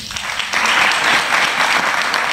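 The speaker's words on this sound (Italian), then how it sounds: "Applauso più che meritato" Audience applause at a music talk event before a duo is called to the stage, a dense, steady clapping wash that swells after half a second and stays loud and close to the end.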